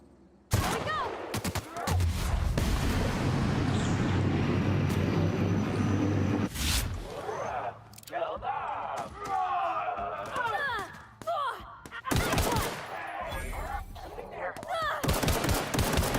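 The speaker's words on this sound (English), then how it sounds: "The machine gun." Rapid machine gun bursts in a video game, loud and dense for about six seconds, then scattered shots and later volleys between stretches of a voice talking.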